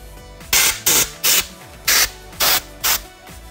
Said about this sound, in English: This got me an air gun, a little needle valve on it, and just spray it.